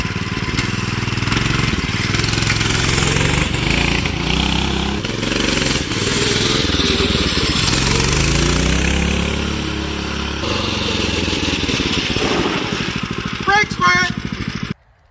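Coleman CT200U mini bike with a Duromax 208cc engine riding down a driveway, a continuous loud small-engine drone that rises and falls with throttle before cutting off abruptly at the end; voices in the background.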